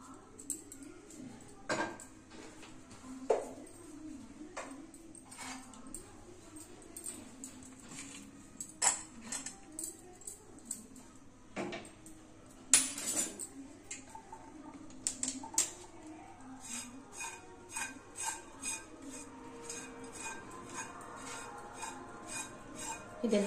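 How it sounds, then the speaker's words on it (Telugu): Spoon mixing raw moong dal snack with chilli powder in a bowl, light irregular clinks and taps scattered over a long stretch, quiet and close, with a low hum in the background. "స్పూన్తో కలుపుతానండి."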